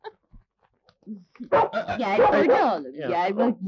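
Close, short dog whimpers and yips come in a few brief bursts, then a person talks over them for most of the remaining seconds.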